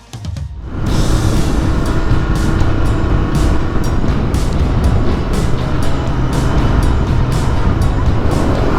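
A Royal Enfield Continental GT 650 motorcycle cruising at speed, a loud steady engine drone with heavy wind rush and rumble that sets in after a brief quieter start.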